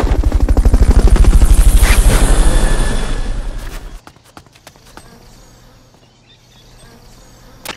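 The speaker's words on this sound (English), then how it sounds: "Fulton recovery helicopter is complete." Rapid rhythmic chopping of a Fulton recovery helicopter in Metal Gear Solid: Peace Walker, a loud pulsing rotor thrum that cuts off abruptly after about four seconds, leaving faint clicks and low hum.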